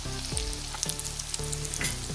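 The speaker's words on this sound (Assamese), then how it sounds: "2 মিনিট মান সময় রঙচুয়া পড়া লৈকে ভাজি লব আৰু আলুখিনি রঙচুয়া পড়া নিচিনা হলে" Potato pieces fry over a medium-high flame until browned for an Assamese fish curry, a close, continuous sizzle broken by short stirring scrapes, with no talking.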